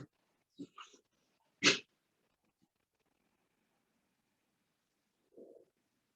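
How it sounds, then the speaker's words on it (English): A pet dog nearby in a quiet room makes a few soft, brief snorts and huffs, one sharper sneeze-like burst, and a faint low grumble after a long silence. "I have my lovely dog here"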